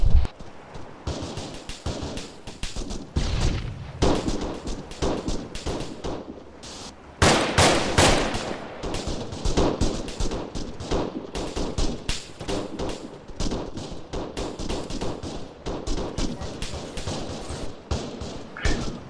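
Gunfire crackles through a field training exercise, with repeated bursts and single shots popping at irregular intervals, some sharp and near, others duller, alongside thumps and a loud cluster of shots partway through.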